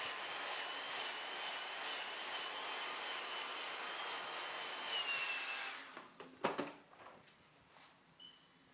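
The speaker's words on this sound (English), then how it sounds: "Repeat the process of the blow dryer." A blow dryer roars steadily for about six seconds during a quickweave hair closure, then cuts off, followed by a few handling clicks and knocks.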